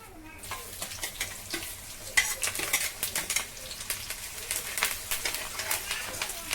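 Vegetables sizzle steadily in hot sesame oil while a utensil stirs and scrapes the pan in repeated strokes, close and fairly loud, while making spicy crab gravy.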